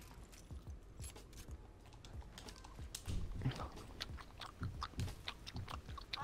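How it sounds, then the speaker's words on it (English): Bubblegum chewed right against a microphone: steady, close, wet smacking and clicking bites in a quick irregular rhythm throughout, with a faint voice in the background. "Bro, stop chewing in my ear."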